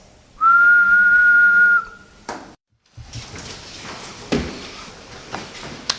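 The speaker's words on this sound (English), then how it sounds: "You just put your lips together and blow like this." One person whistles a single steady, clear note, close and loud, for about a second and a half, followed by a brief silence and then faint rustling and bumping sounds.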